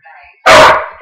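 A single loud, harsh dog bark in the video game Minecraft bursts out after a brief stretch of quieter tonal sound, close and sharp, then cuts off.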